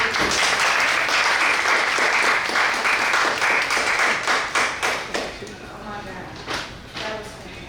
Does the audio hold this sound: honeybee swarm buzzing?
no